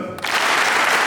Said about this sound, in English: Give me 3 claps if you're gonna be at that game